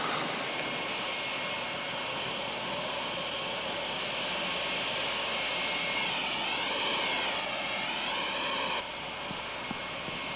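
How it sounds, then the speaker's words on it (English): Jet airliner engine roaring steadily at a distance, a broad continuous rush with a slowly shifting whine that drops off near the end, no voices. "We've got to stop that jet."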